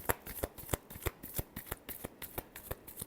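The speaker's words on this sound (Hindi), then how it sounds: "Last shuffle." Tarot cards are shuffled by hand in quick, crisp riffles, a rapid regular run of close snapping bursts with no talking.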